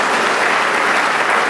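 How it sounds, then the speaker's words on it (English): Audience applause for the President at a national cybercrime summit, dense steady clapping from a large crowd, loud and close throughout with no talking. "If you want to clap for the President, you can go ahead and do that"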